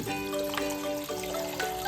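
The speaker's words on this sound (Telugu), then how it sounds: "వాటర్ అయితే యాడ్ చేస్తున్నాను." Water poured into a cooking pot before mutton is added for biryani, a short, soft, steady trickle and splash heard close up with no talk.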